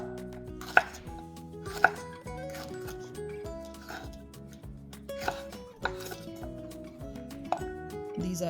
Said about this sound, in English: I will cut off or slice these chilies